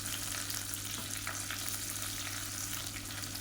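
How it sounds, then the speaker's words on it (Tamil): Finely chopped large onions, added with fennel, curry leaves and mint leaves, fry in hot oil for a tomato kadayal, giving a steady, close, dense sizzle with faint stirring and no talking. "பொடியாக நறுக்கின பெரிய வெங்காயம் ஒன்றரை கைப்பிடி அளவுக்கு சேர்த்துக்கலாம்"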